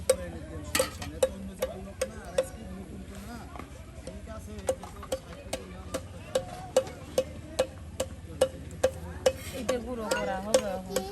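Beef trotter curry stir-fried in a pan: the spoon scrapes and clacks against the pan in a regular rhythm, under a soft sizzle, while someone talks over it.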